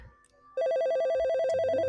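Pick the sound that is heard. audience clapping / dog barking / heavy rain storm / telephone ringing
telephone ringing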